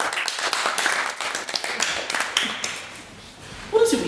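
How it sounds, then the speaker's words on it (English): Hands clapping as an audience applauds after a debate vote, a dense patter of claps fading unevenly toward the end with some voices mixed in. "What is it with you and clapping hands?"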